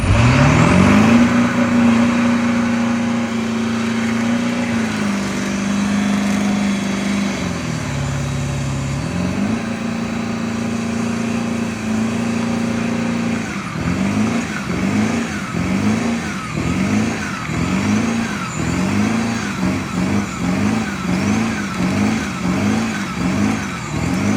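A 1997 Ford F250 shorty truck does a burnout, its engine roaring loud and close, holding steady high revs before it settles into a long run of rapid, rhythmic rev surges that rise and fall again and again.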